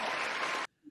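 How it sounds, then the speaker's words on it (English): Applause greets a guest on a talk podcast, a short, loud burst of many clapping hands that cuts off abruptly and leaves near silence. "Everybody, round of applause."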